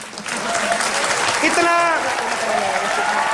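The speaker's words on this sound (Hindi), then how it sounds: "जोरदार तालियां" Studio audience on a Hindi comedy talk show bursts into loud, sustained applause and cheering, a dense wash of clapping with voices and whoops rising through it.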